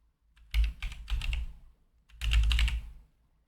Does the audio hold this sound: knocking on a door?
no